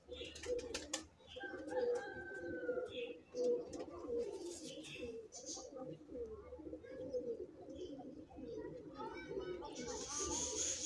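Slate-grey pigeons coo continuously close by, with occasional chirps and a voice talking faintly in the background.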